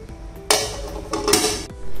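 A metal lid is set over resting khari pastry dough in a home kitchen, making two loud clanking contacts with a short metallic ring in between, close and clear with no talking.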